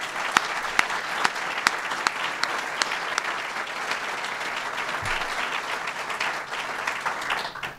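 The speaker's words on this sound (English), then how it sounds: "One more round of applause for the governor" A crowd applauds for Governor Andrew Cuomo with sustained, dense clapping and a few sharp individual claps standing out early, fading slightly at the very end.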